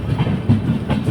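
An Intercity Express passenger train with new LHB coaches running on rails between New Jalpaiguri and Guwahati, with a steady close rumble and rhythmic clickety-clack of the wheels over rail joints, no talking.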